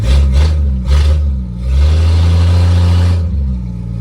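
A 1974 Plymouth Duster's slant six engine, fitted with a four-speed manual, idles with a deep rumble, then revs up in a couple of short blips and a longer sustained rev before dropping back. Close and loud.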